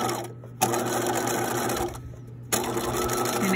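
A sewing machine stitches a centered zipper in close, loud bursts: a steady mechanical whir runs, pauses briefly twice, then resumes.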